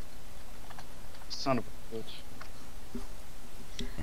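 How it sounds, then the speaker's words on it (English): Typing on a computer keyboard comes as a few sparse, quick clicks over a low background hum, with a voice talking nearby. "Oh, he's typing."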